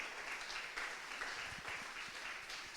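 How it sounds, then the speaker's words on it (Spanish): Congregation applause during a Spanish-language Christian sermon, a steady dense wash of clapping filling the room, fairly faint and distant throughout. "Dale un fuerte aplauso al Señor."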